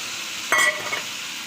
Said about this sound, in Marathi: आता मी हे गरगट जे चाकवत शिजलेलं आहे तो मी या फोडणीमध्ये ओतणार आहे